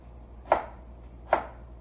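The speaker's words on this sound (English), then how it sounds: "And you want to cut it across the grain" A knife slices through steak across the grain for pepper steak, two distinct cuts about a second apart, each a crisp close thunk on the board, with no talk.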